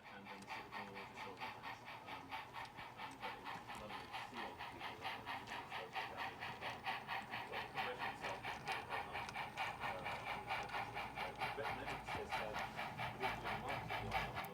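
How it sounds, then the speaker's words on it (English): A model Heavy Mikado steam locomotive pushes a train of grain cars up a grade, its motor and wheels giving a steady fast rhythmic clicking chuff throughout, faint and close. "I just wanted to give you a chance to enjoy this steam engine action"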